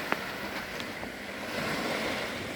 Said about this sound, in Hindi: अब हम थोड़ा समुद्र की लहरों की ओर आ जाएं।